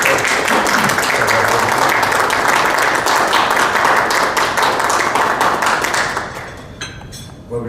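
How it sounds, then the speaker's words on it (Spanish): Loud, sustained applause from a large audience at a formal Mexican political assembly, steady dense clapping for about six seconds before thinning out and fading near the end. "Vamos a darle un aplauso."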